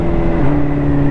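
A 2019 Honda CBR650R motorcycle rated at 95 hp, changing gear with the throttle closed, the selector needing force: a loud, steady engine drone close by whose pitch dips slightly partway through the brief moment.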